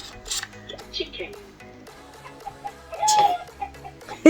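A small electronic chicken clucks in short bursts from a sound card toy's speaker, mixed with children's voices and light clatter nearby.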